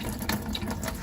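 Diesel fuel trickling from a school bus fuel-water separator as the primer pump is pressed, a steady close liquid splash and gurgle with no talk.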